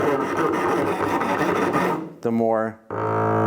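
A harsh, scratchy rasping of a bow with cold rosin dragged across violin strings for about two seconds, then cleaner sustained bowed tones with brief breaks as the rosin warms.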